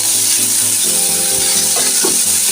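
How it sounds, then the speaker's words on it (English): Salt mackerel fries in a pot with a loud, continuous close sizzle and a few faint knocks underneath, and no voices. "I'm gonna cook up some mackerel in this guys, salt mackerel."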